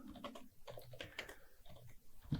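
Fingers typing on a computer keyboard while writing CSS and HTML form code, irregular quiet key clicks in short runs, close up with no talk over them.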